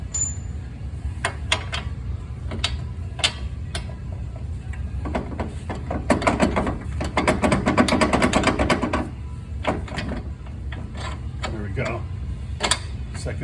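A ratchet tightens strut bolts on a 2006 Honda Pilot during a passenger-side front strut replacement, with rapid clicking bursts through the middle and scattered single clicks before and after over a steady background hum.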